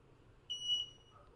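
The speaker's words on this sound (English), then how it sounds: "you can see the LED as well as buzzer started" Buzzer of a Raspberry Pi PIR home alarm system, a single short high-pitched electronic tone lasting about a third of a second, faint against quiet room noise.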